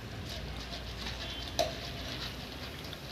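Roasted gram (putnalu) frying in a pan for a homemade corn snack mixture, a steady soft sizzle with light stirring scrapes and one brief clink midway, no talk.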